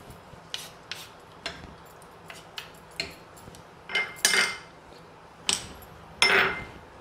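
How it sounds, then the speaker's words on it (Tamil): Salted rice and millet mixture stirred in a pressure cooker: a series of sharp metallic scrapes and clinks of a spoon against the pot, irregular and close, growing louder toward the end, with no talking. "இது ஒரு முறை கலந்து விட்டுக்கலாம்."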